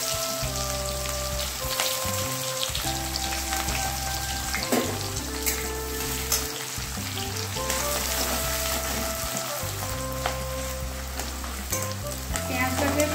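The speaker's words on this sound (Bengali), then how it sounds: "পেঁয়াজটাকে খুব ভালোভাবে ভেজে নেব।" Chopped onions sizzle in hot oil with bay leaf, cumin and whole garam masala for a restaurant-style mutton biryani, a steady, close frying hiss that continues throughout with background music tones.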